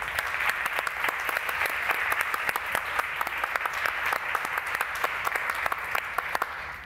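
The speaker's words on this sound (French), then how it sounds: "On peut l'applaudir." Steady audience applause in a hall at a French-language public event, with many hands clapping together and sharp individual claps poking through the dense, even sound.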